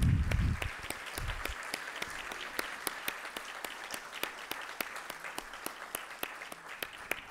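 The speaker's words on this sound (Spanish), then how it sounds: "les quiero pedir un fuerte aplauso para Pancho" Sparse, slow clapping from a small audience honoring a man named Pancho, distinct individual claps spaced out after a brief low rumble at the start.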